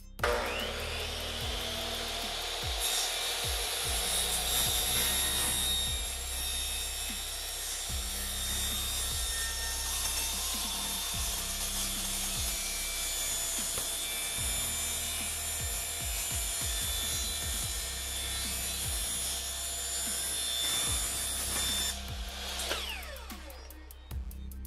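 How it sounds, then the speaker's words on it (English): A miter saw rasps steadily through wood for about twenty seconds, a continuous close, loud cutting drone with a high whine that cuts off near the end, with no talking. "Let's go out to the miter saw."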